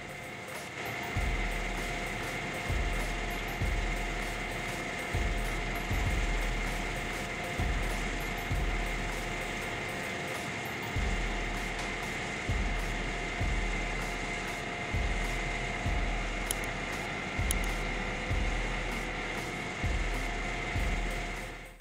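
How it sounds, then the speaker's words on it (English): A Magni 630 crane handles tree trunks in a forestry setting, with steady mechanical whirring and regular heavy thumps and clunks about every 1.3 seconds, fairly close and sustained throughout. "The Magni 630 machine handles tree trunks expertly"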